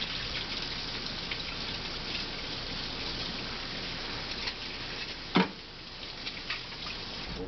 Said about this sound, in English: Clean the grid. Cold water only, never soap in water.